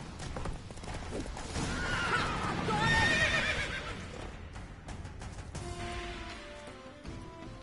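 Roach, Geralt's horse in The Witcher 3, whinnies loudly and close, a drawn-out neigh peaking mid-clip amid clip-clopping hooves, with softer snorts and game ambience afterward.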